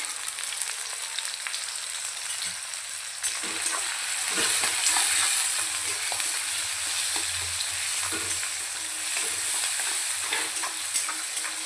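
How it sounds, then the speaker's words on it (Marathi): Chopped onion with a little salt sautéing and being stirred in a pan, a steady bright sizzle with occasional scraping clicks from the spoon, close and continuous, no voices. "कांदा आपल्याला छान असं परतून घ्यायचा"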